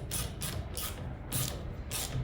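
Husky 143R brush cutter stone guard being tightened with a hand tool: a short series of repeated ratcheting clicks, close and fairly quiet, about five bursts in quick rhythm with no talking.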